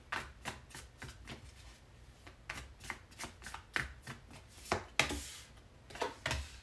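Tarot cards are shuffled by hand in a quick run of crisp riffling flicks and soft slaps, close and moderately loud, about a dozen bursts in steady rhythm with no talking.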